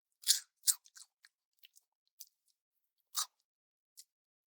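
Close, crisp crunches of biting into hot, salted fried enoki, beech and oyster mushroom tempura, several sharp bites and chews spaced out over quiet, no talking.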